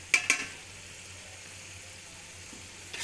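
Chana dal dropped into frying masala in a pan, two quick sharp hits followed by a soft, steady close sizzle that swells again at the end.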